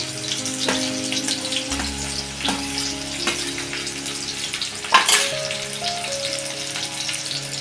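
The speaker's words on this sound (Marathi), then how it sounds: "याच्यामध्ये तेल टाकलेलं आहे मी आता मी याच्यामध्ये लसूण टाकते लसूण पण टाकायचा कांदा पण टाकायचा आणि कांदा टाकते मिरची पण टाकते" Garlic, onion and green chili fry in hot oil for a drumstick-leaf vegetable dish, producing a continuous close sizzle and crackle with a few sharp spatters and stirring clinks.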